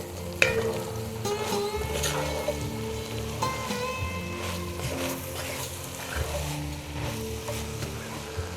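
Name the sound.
quick mixing of spices and seasonings for kale soup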